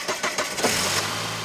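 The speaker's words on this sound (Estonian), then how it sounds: "Mootor peab käivituma hästi" A used car's engine cranks in a few quick rhythmic bursts, catches and settles into a steady, fairly loud idle, heard up close with no talking.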